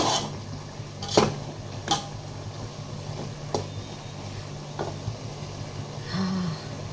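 Turmeric and red chili powder being stirred into chicken biryani in a pan, with a few soft scrapes and clinks of a spoon against the metal over a low steady background hum.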